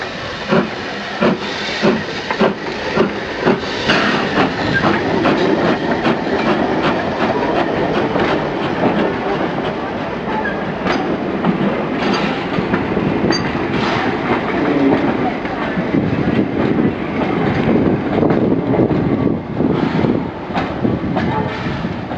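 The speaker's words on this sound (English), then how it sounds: "here we see Y542 shunting the coaches away after the last run" Y class locomotive Y542 shunts coaches, with steady hissing steam, rhythmic clanks and clickety-clack of wheels over rail joints, loud and close throughout.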